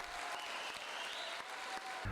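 A crowd applauds at the close of a dance show, the clapping heard as a fairly faint, even wash of many hands that stays steady throughout.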